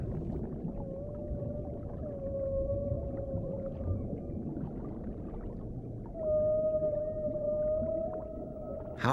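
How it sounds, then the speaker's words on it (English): Underwater whale song: long, sustained tonal moans that glide and hold, repeating in phrases over a low rumbling ocean background, fairly close and with no voices. "All the whales in each ocean sing the same song."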